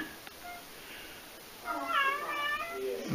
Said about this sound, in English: Yeah, there's a cat.